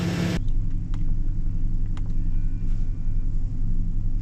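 A 2007 Chevy Silverado with a 4.3L engine, recently repaired for lean-running codes, is heard from inside as it drives, a steady low engine rumble and road drone going on without a break and no one speaking.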